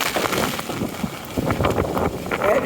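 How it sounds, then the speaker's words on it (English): Strong gusting wind buffets the microphone on a downtown street during heavy rain, a steady broadband roar with rising and falling gusts and no clear speech. "I'm out in the wind, and if I turn around that way, it's too windy"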